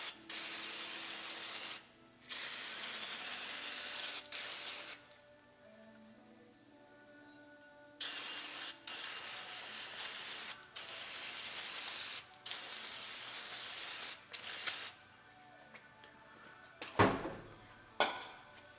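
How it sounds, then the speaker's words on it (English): Repeated long hissing bursts from an aerosol can of brake cleaner sprayed on Honda Civic brake parts, close up, separated by short pauses with faint clicks and handling noises. "So we're gonna go ahead and spray it off. So just take some brake clean."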